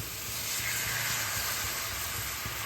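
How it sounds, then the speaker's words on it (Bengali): Hot water poured into frying spice paste in a pan for hilsa fish curry, giving a loud, steady hiss and sizzle of steam that carries on without a break, with no talking. "পাশে গরম জল করে রেখেছি, এই জলটা এর মধ্যে দিয়ে দেবো।"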